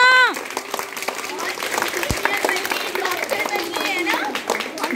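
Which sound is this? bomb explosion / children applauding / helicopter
children applauding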